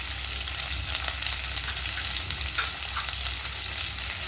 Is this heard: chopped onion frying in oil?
yes